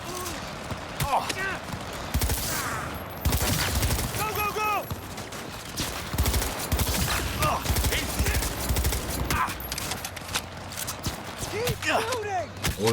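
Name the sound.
gunfire shooting a turret in video game Cyberpunk 2077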